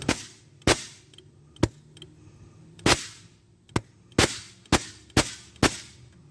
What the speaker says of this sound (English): Well, that solenoid's loud.